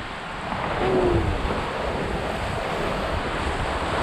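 Steady rush of ocean waves and wind on open water around a sailing yacht at sea, a constant broadband wash with a brief low tonal hum near the start.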